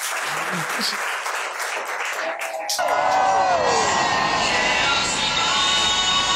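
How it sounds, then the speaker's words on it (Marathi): A group breaks into applause and cheering after a demonstration, with voices and scattered clapping at first, then a sudden swell of loud, dense clapping and excited shouts that carries on to the end. "टाळ्या."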